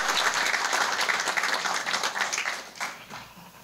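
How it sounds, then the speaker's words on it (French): An audience at a conference applauds loudly and warmly, with a dense burst of clapping that begins to thin out toward the end. "Est-ce qu'on peut encore applaudir très fort pour"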